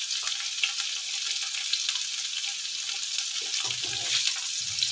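Bitter melon with anchovies and a little dried shrimp frying in a pan, a steady bright sizzle throughout with soft stirring and scraping knocks near the end, no voices.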